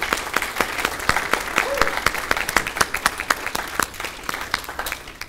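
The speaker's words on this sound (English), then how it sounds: "Will you give them a round of applause, please?" Summit audience applause, steady dense clapping from a large crowd in a hall, loud and sustained for several seconds with sharp individual claps standing out.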